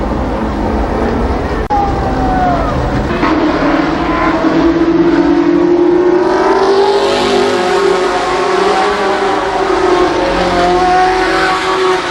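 Race cars lapping an oval at Columbus Motor Speedway, engines roaring loud and continuous as the pack passes close, pitch sweeping up and down with acceleration and Doppler shifts.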